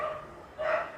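Dogs fighting in the distance give off faint, scrappy barks and yips in two short bursts against a steady background hiss.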